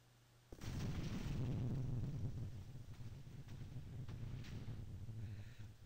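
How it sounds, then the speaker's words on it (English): A fragmentation explosion from the Minecraft ICBM mod goes off as one sudden boom, then a long rumbling crackle that slowly fades, with scattered sharp pops. "So here's the fragmentation explosion, which is sort of like the shrapnel one"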